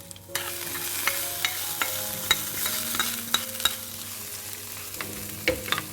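Spices crackling in hot oil as a tempering is added to dahi baingan, a steady sizzle punctuated by sharp pops and utensil clinks, close and moderately loud, with no voices.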